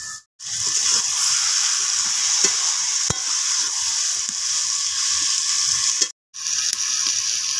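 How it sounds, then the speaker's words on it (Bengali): Saag stir-fried in a pan, a constant bright sizzle carrying on throughout, punctuated by soft scrapes and taps of a spatula and a brief pause mid-way. "এবার 5 থেকে 7 মিনিট মতো আমি শাকটাকে ভালো করে কষিয়ে নিয়েছি।"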